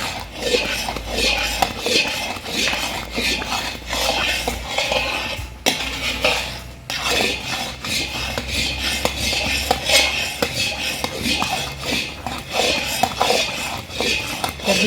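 Steady scraping and clinking of a utensil against a pan as a milk mixture with milk powder is stirred for homemade carrot barfi, continuous and close throughout.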